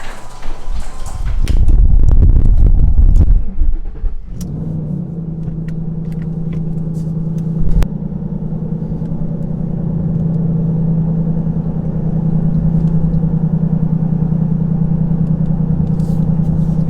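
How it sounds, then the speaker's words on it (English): A Ford Mustang is moved out of a home garage: a loud, rough engine rumble for the first few seconds, then a steady, droning idle hum that carries on close by for the rest of the clip. "Mustang is in the garage, so we're gonna go ahead and move that out right now"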